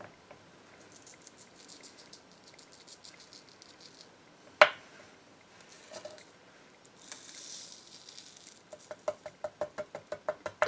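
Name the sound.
embossing powder poured generously onto stamped paper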